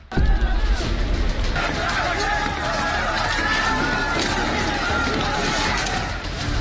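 A frenzied mob of thousands roars at a temple in Khyber Pakhtunkhwa, Pakistan, a loud, dense crowd clamor of shouting voices with scattered crashes and running footsteps, sustained without a break.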